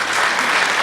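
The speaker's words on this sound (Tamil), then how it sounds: "ஆசிரியைக்கும் உங்கள் பலத்த கரகோஷம்" Loud, dense applause from an audience at a children's music event, fills the whole moment as a steady, close wash of clapping with no gaps.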